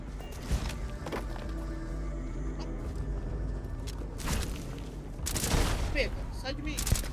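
Gunfire in a space-themed video game, as bursts of shots crackle in the mid-distance over steady background game noise, growing denser toward the end.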